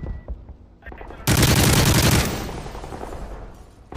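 A submachine gun fires a sudden, loud burst that lasts about a second in a team multiplayer shooter match, and the noise then trails off into ambient game sound.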